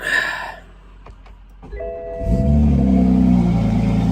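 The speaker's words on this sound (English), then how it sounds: "little cold start" A Toyota Supra engine cold-starts after a brief starter crank, then settles into a loud, steady idle that holds to the end.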